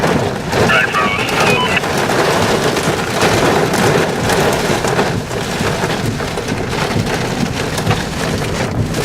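Heavy rain pours down steadily and close during a tornado storm in Caldwell, Kansas, a dense, constant roar of drops that keeps up the whole time, with some wind mixed in.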